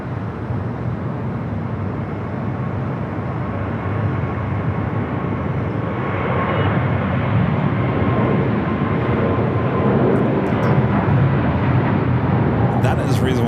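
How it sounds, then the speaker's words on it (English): A Korean Air Cargo Boeing 777 freighter rolls toward runway 7 left at LAX, a loud, steady jet engine roar that swells slightly partway through, with a voice speaking over it. "the Korean Air Cargo 777 freighter rolling down to 7 left"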